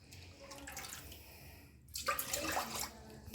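Buttermilk pours into a container with a burst of splashing liquid after a quiet start, close and fairly loud for about a second and a half before it tapers off.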